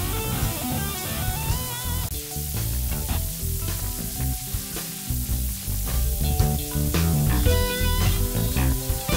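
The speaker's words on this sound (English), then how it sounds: "it quickly becomes a sort of white noisy kind of fizz." A bright, steady white-noise fizz of TPDF dither hisses across the top of a piece of music, running continuously from start to finish.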